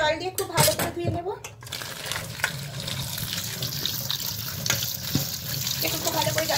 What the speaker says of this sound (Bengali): এবার ঠান্ডা জল দিয়ে খুব ভালো করে ধুয়ে নেব।